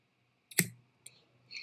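Scissors cutting a girl's hair at home give a crisp, close snip followed by a fainter second snip and a soft rustle, in an otherwise quiet room.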